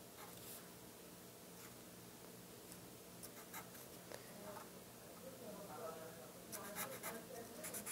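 A pen scratches faintly across paper while drawing the Oilers hockey logo, quiet close strokes in short irregular bursts.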